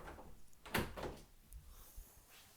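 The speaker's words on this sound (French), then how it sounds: "je vais refermer la porte par exemple, parce que mon petit gars est dehors." An office door inside a house is pushed shut, making a quiet thud followed by a soft latch click in a hushed room.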